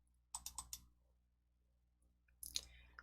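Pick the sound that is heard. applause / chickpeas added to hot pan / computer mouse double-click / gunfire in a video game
computer mouse double-click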